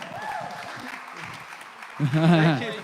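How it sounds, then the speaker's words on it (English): Applause for the Dream Team at a live classic car giveaway award ceremony breaks out near the end, loud and close, after a stretch of talk and faint crowd noise. "Let's give the Dream Team a round of applause"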